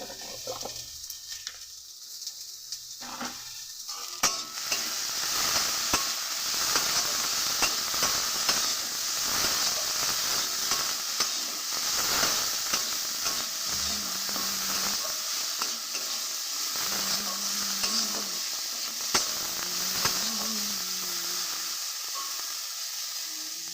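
Spices with turmeric, chili powder and salt sizzle steadily in a hot pan while being stirred, a continuous loud frying hiss with occasional scraping, after a short quieter moment at the start.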